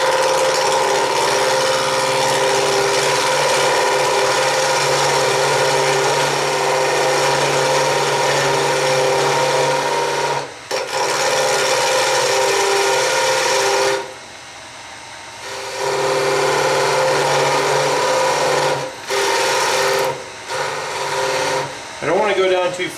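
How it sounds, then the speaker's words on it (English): A parting tool cutting a turned wooden chair part on a lathe, a loud continuous whirring hiss with steady tonal hum that stops briefly a few times before resuming, close up. "going to take my parting tool and I'm going to get right up to the shoulder on the original piece"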